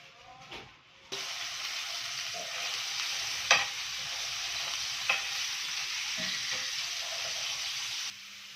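Oil and garlic frying in a pan, a steady close sizzle with a few sharp clinks of a utensil, with the cooking cutting in abruptly and stopping near the end.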